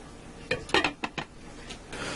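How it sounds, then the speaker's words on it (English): A lid set back onto a Ninja cooker holding tuna casserole gives a few close clanks and rattles of metal and pot, spread over about a second, then quiet. "I'm going to put my lid back on here."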